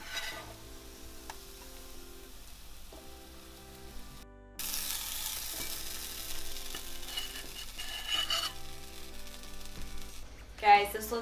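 A keto quesadilla sizzles in a pan after being flipped, a soft frying crackle that rises when it hits the heat. Background music and talk run along with it.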